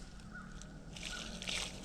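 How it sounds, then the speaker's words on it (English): Water poured from a bucket onto the soil around a newly planted fruit tree, a soft sloshing trickle that grows a little louder partway through, heard close and faint with no talking. "Gotta put a little water on it also."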